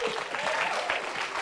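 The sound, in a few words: audience applause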